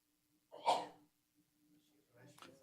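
A single sharp sneeze breaks out in a quiet railway commission meeting, fairly loud and close, followed by a fainter rustle or breath a moment later.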